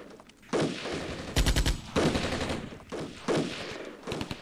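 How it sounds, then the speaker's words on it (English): Mortar fire in the Armored Brigade wargame: several loud, sharp bursts of launching rounds break up an ongoing noisy battlefield din, with a cluster of rapid reports near the middle and more blasts toward the end. "Mortar is ready to fire."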